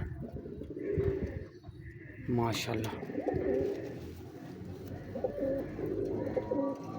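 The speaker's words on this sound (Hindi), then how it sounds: "ये देखें नीला कबूतर" Pigeons, including blue birds kept by a fancier breeding long-flying stock, coo repeatedly in a loft; the low rolling calls recur throughout, mixed with nearby chatter and a person's voice.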